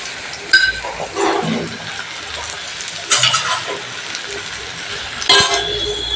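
A spatula scrapes and stirs an egg stir-fry in a sizzling pan, with a few sharp metallic strikes against a steady frying hiss.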